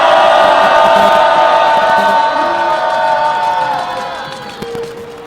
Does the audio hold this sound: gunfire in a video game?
no